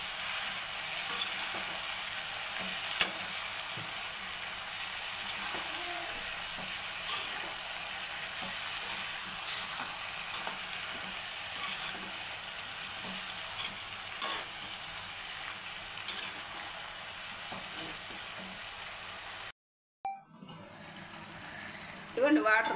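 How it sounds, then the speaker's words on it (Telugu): Mushrooms frying in a pan for an Andhra-style curry, a steady close sizzle with occasional stirring scrapes running for nearly twenty seconds before a brief cut, then quieter clatter at the end. "మష్రూమ్స్ వేసుకొని మళ్ళీ మూత పెట్టుకోవాలన్నమాట. కలబెట్టేసుకొని దీంట్లో నుంచి వాటర్ వస్తుంది"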